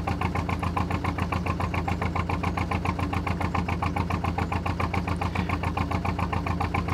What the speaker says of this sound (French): Alors on entend rugir notre petit moteur de bateau.